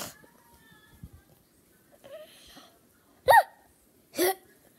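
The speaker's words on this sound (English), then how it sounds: "You have hiccups, dude." Two short, sharp hiccups from a person, spaced about a second apart, fairly close and clear, with faint movement and quiet voices in the background before them.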